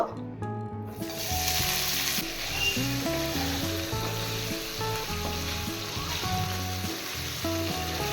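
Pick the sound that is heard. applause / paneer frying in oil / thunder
paneer frying in oil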